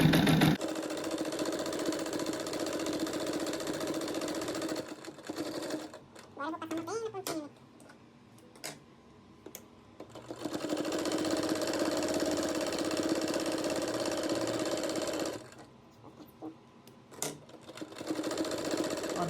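A sewing machine stitches a denim rug made from old jeans in long running bursts, loud and close, with pauses of quieter handling between runs.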